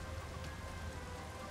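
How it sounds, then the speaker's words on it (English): Steady rain pouring down in the Persona 5 Strikers video game, a constant soft hiss of dense raindrops with no talking. "It just started pouring all of a sudden."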